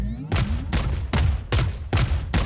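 Missiles launch in a video game as five or six heavy, evenly paced booming blasts, each a loud burst that quickly fades before the next one.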